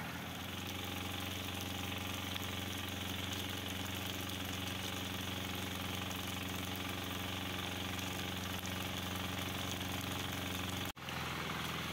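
Tractor engine running in a rice field during rice planting, a steady, dense mechanical drone with knocking texture that holds evenly, then cuts out with a brief dropout near the end.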